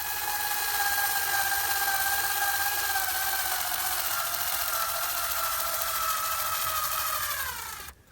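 A power driver sends screws into a 75mm timber frame on the top of a gazebo, a steady loud whine running the whole way with a slight pitch drop before it stops abruptly at the end.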